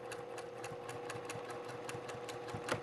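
A sewing machine backstitches through cork fabric on a wallet, a close, continuous mechanical chatter with rhythmic needle thumps throughout.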